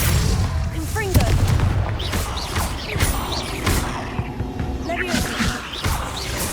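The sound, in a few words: Confringo blasting spell cast in video game Hogwarts Legacy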